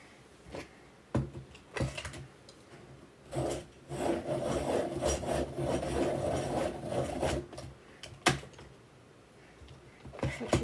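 A colored pencil is sharpened by hand, giving bursts of dry scraping and rasping of varying length with short pauses between them, close and fairly quiet.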